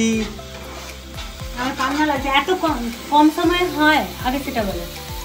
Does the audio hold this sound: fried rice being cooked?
yes